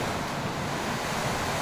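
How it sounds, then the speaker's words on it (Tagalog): Strong typhoon wind roars steadily at 3 AM, a dense unbroken rush of noise buffeting the microphone with no pauses or other sounds. "Ang lakas-lakas ng hangin."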